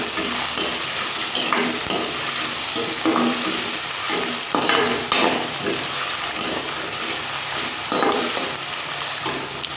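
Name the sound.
frying squeezed onions in hot oil for biryani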